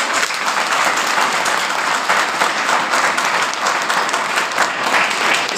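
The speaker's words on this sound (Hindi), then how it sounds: "इसकी आशीष के लिए ताली बजाएं।" A church congregation at a Sunday meeting claps together in loud, sustained applause that holds steady throughout, dense and close with no break.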